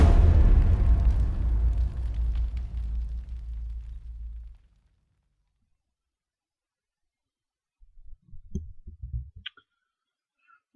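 Just Cause 3 game trailer explosions: a loud, deep rolling blast that decays over several seconds into silence, followed later by a few faint clicks and pops.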